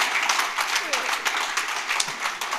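A congregation at a church service claps in a lively, scattered burst, individual hand claps standing out over a general patter of applause, with a voice and crowd murmur mixed in.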